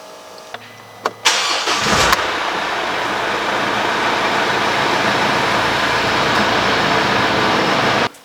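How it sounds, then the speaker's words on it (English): A Mercedes CLS 250 CDI Shooting Brake diesel cranks after a few faint clicks and catches at once. It settles into a steady, close idle before it is switched off abruptly at the end. "then I will start the car to fill the filter"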